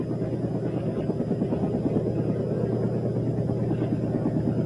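An RAF rescue helicopter flying through a 1963 winter freeze, its rotor giving a steady, dense, low thumping drone that holds even and continuous throughout.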